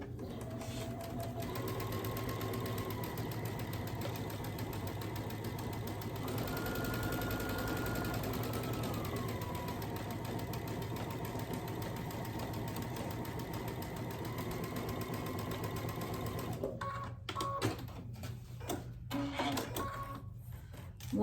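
A sewing machine stitches fabric quilt squares together in a long, steady mechanical whir with rapid needle chatter, pausing and shifting pitch briefly before a burst of stop-start clicks near the end.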